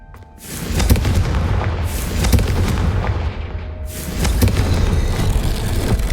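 A Confringo fire spell in the video game Hogwarts Legacy goes off as a loud, booming blast, then a sustained rumbling roar that swells again partway through, with no talking.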